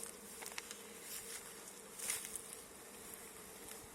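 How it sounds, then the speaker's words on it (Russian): A dense, steady buzzing of many drone-laying worker bees swarming nearby, a continuous insect hum with occasional louder passes close to the microphone. "Это роятся пчелы, которых я расформировала."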